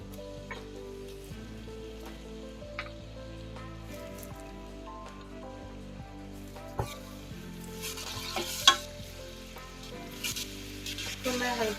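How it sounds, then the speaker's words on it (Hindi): Garlic and ginger paste frying in ghee for a degi chicken korma, giving a soft, steady sizzle with light stirring scrapes that grow a little more active toward the end, faint and continuous. "इसके अंदर मैं डाल रही हूँ लहसुन और अदरक का पेस्ट"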